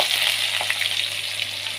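Cut onions frying in hot oil with fennel seeds, a steady bright hiss and crackle close up, lightly stirred, with no talk.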